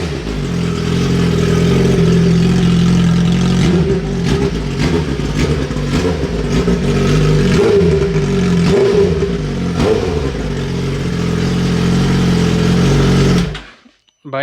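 A 2025 Suzuki GSX-R1000 sportbike engine revs repeatedly after a spark plug change, loud and close, rising and falling in throttle blips before cutting off.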